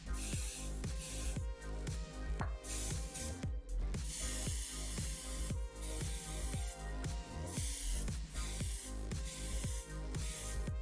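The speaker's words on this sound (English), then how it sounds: "we're gonna just spray the matte varnish down on all of this just to make sure." Matte varnish sprayed from an aerosol can over a finished piece, a continuous close hiss with brief breaks, set against steady rhythmic music playing throughout.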